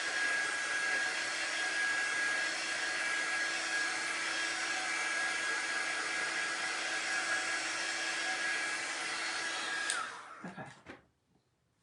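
A hair dryer blows steadily and loudly on freshly applied chalk paint, a constant whirring roar with a high whine that runs for about ten seconds before switching off and spinning down, followed by a brief spoken word.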